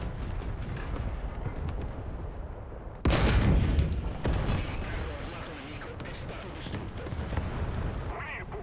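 A Turan II tank cannon fires once in a video game battle, a sudden heavy boom that decays into rumble, with a second fainter blast after, over steady engine drone and speaking voices.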